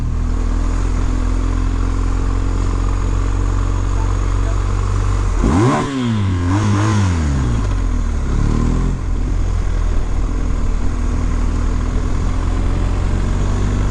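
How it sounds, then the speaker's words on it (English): A 2022 BMW R1250 GSA Adventure Rallye motorcycle with its factory exhaust revs up in second gear, engine note rising and falling in two quick surges over a steady rumbling wind-and-engine drone. "So now I'm gonna put this thing in second gear and wheelie into the back of the dump truck."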